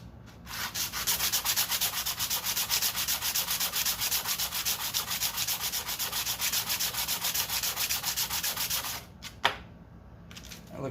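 A small homemade engine intake is rubbed by hand across sandpaper laid on a flat surface, producing a fast, even back-and-forth scratching rhythm that stops near the end with a single knock.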